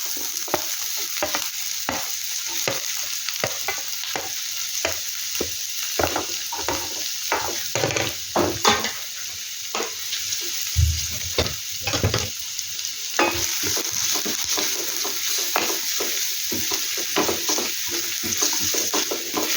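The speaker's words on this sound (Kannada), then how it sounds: "ಸ್ವಲ್ಪ ಫ್ರೈ ಆಗಲಿ. ಹೈ ಫ್ಲೇಮಲ್ಲಿ ಇಡುವ ಗ್ಯಾಸ್, ಬೇಗ ಆಗ್ತದೆ." Thinly sliced ingredients fry in coconut oil over a high gas flame for paneer malai masala, giving a constant close sizzle broken by frequent spatula stirs and scrapes against the pan.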